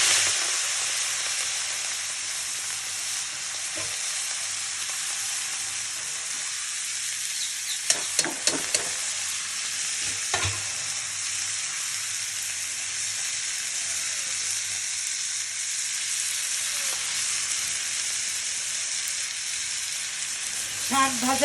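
Senchi greens hit hot oil left from frying fish, with garlic and onion, giving a steady close sizzle throughout and a few sharp stirring clatters partway through.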